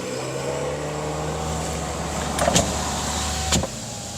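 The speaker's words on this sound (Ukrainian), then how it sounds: "Тут у нас електросклопідйомники повністю автоматичні, повністю, бачите?" Automatic electric power windows on a 2019 Volkswagen Touran 2.0 TDI Comfortline whir steadily at close range over a low hum, ending in two brief clunks as the glass reaches its stops.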